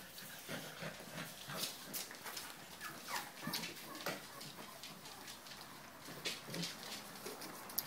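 Several dogs whimper and whine indoors in a busy, continuous jumble of soft cries and shuffling, fairly quiet and with no clear talk.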